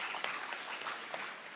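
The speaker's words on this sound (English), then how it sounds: "with a big round of applause for me" Student audience at a university orientation programme claps in a faint, distant round of applause, steady and soft with a few sharper claps.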